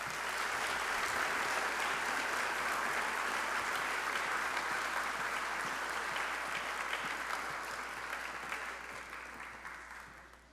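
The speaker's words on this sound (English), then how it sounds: "Let's give these students a round of applause" Sustained audience applause for students at an education excellence celebration, dense and even clapping from a large crowd that slowly tapers off at the close.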